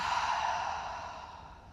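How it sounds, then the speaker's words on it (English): A single long, breathy exhale during a Pilates inner thigh stretch, close and soft, trailing off gradually. "Let's do one more breath here. And exhale."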